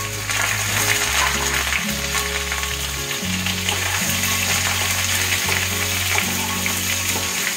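Chopped pointed gourd frying in mustard oil with whole cumin, giving a loud, continuous close-up sizzle and crackle while steady low tones sit underneath.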